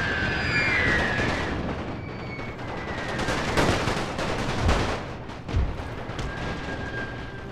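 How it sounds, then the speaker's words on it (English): Artillery fire in The Great War mod, a dense wash of overlapping booms and rumbling blasts that carries on steadily, with a few heavier thumps standing out near the end. "Must be from artillery he's firing at us with."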